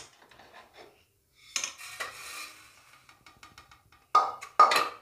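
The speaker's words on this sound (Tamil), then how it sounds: "இதை எடுத்து நம்ம தட்டில் போட்டுடலாம்." A fried vegetable nest is lifted out and set onto a plate, producing scattered close scraping and light clinking of utensil against plate and pan, with two louder clatters near the end and quiet gaps between.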